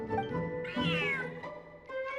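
A cat meows in the video game Feline Fortress, a couple of clear, rising and falling meows up close over soft background music, with no talking.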